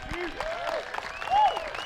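A home crowd at a disc golf world championship final round claps and cheers, a scattered, moderately distant applause that swells briefly near the end, with a commentator talking over it.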